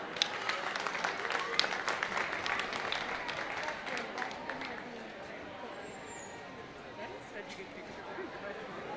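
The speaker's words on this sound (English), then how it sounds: "let's please have a round of applause for our sponsor" Audience applause for a sponsor at a food and farm show, a dense steady wash of many hands clapping with faint chatter underneath, loudest early then easing off slightly toward the end.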